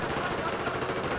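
Gunfire rattles across a ramp in Battlefield 4, a dense, busy wash of shots and battle noise filling the short moment with no pause.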